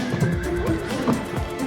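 Horses neighing inside the hold of a cargo flight, a short, wavering whinny rising and falling over a dense background rumble of aircraft noise.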